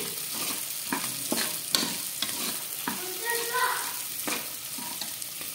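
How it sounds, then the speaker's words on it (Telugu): Cashews and green peas fry in a pan for palak rice, giving a steady close sizzle broken by repeated scrapes and clacks of a spoon stirring against the pan. "గ్రీన్ పీస్ కూడా బాగా ఫ్రై అయిపోయి నెక్స్ట్ ఇందులో కొద్దిగా జీడిపప్పు అయితే యాడ్ చేసుకోవాలి."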